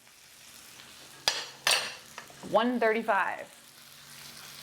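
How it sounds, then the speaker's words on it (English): A steak fries in hot fat and butter while being basted, a soft sizzle broken by a few sharp spoon and pan clinks, with a person talking briefly over it. "As the steak cooks, you can baste it a bit, meaning just sort of tilt it over and grab some of this hot fat and butter"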